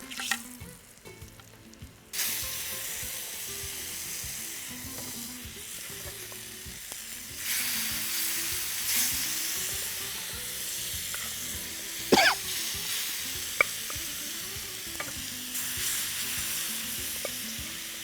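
Chunks of elephant foot yam frying in hot oil until crisp, a steady loud sizzle that swells as pieces are stirred and turned, with occasional spoon scrapes and clinks against the pan.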